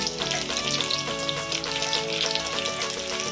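Lentil fritters (bora) deep-fry in hot oil with a dense, continuous crackling sizzle, while steady tonal music plays over it throughout.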